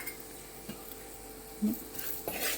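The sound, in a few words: stirring chili powder in a pan for potato curry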